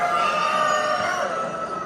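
A Denizli rooster gives one long, drawn-out crow that stays loud and steady for the whole stretch, close by, with no voices, at an ornamental poultry competition in Afyonkarahisar, Turkey.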